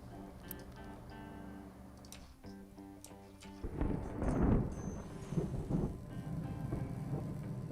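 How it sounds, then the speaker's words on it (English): A crack of thunder in the video game Captain of Industry breaks in midway as a loud, broad rumble that swells and then rolls away, following a stretch of quieter game music. "Nice crack of lightning there. Oh, rather crack of thunder."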